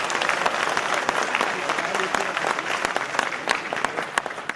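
An audience fills a newly built auditorium with steady, dense clapping, many hands close and loud throughout with sharper individual claps standing out, and no pause in the applause.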